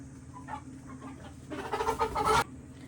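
Chickens, including young pullets and cockerels, cluck and squawk nearby, a few soft calls at first, then a louder burst of rapid clucking before it cuts off.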